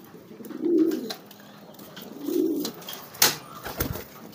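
Racing and homing pigeons give two low, soft coos a couple of seconds apart at close range, followed by a few brief rustles or wing flaps in an otherwise quiet setting.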